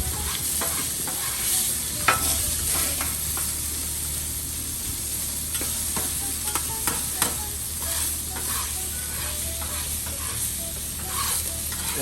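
Thin-sliced steak and onions for a Philly cheesesteak sizzle on a hot surface, a steady close frying hiss broken by repeated sharp scraping and stirring clicks from a spatula, with no talk.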